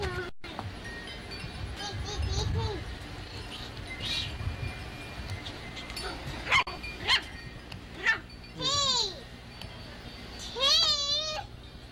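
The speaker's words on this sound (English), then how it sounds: "What's that dog doing?" A dog in a 1980s West Virginia home lets out several short yelps and whines among household noise, with a child's babbling and distant voices around it.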